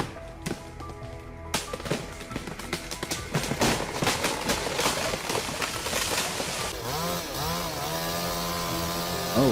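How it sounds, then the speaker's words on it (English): A chainsaw roars loud and close while a giant red cedar is cut, the engine revving in rising and falling waves with sharp cracks and thumps of wood throughout. "The sound of chainsaws roars, the blend of nature and technology."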